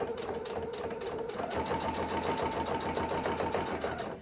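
A sewing machine stitches through a notepad whose tape has left sticky residue, running as a steady, rapid mechanical chatter that holds for several seconds and shifts slightly in pitch partway through.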